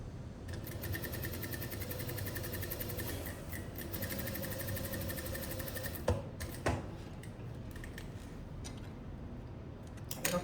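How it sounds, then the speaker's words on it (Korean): A sewing machine stitches the neckline of a summer dress with a quiet, rapid, steady clatter that pauses briefly in the middle before resuming, close and faint. "이렇게 스티치 쳐줬어요"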